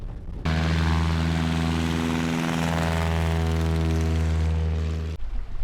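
A bush plane flying in to land at a remote Alaskan camp, its propeller engine droning loud, close and steady throughout with no pause.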